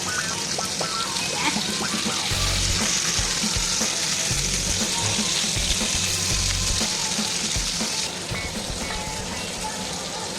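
Rupchanda pomfret fish fry in a pan over a medium flame, a dense, loud, continuous sizzle with occasional low thumps and bubbling underneath.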